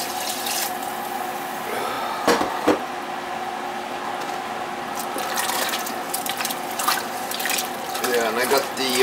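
Water pours and splashes into a stew pot on a home stove, a steady running stream with a few louder sloshes, heard close up with some kitchen clatter.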